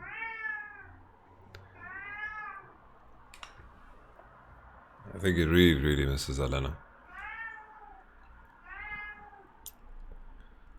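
A house cat meows several times in short, separate calls, near and fairly clear, with a louder burst of other sound in the middle and someone talking over it.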